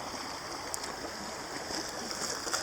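A rocky creek flows steadily close by as a soft, constant wash of running water with a few faint splashes, and nobody speaks.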